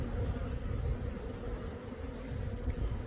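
Honeybees fanning at the entrance of an insulated hive, a steady low buzzing drone heard close and continuous with no pauses.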